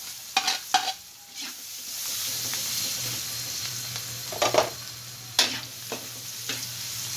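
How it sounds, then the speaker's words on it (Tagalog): Chopped onions for Filipino bistek sizzle steadily in a hot pan while a spoon or spatula stirs them in several distinct scraping strokes, the frying hiss continuous underneath, close and alone without talk. "at sa puntong ito ilagay na rin natin ang sibuyas."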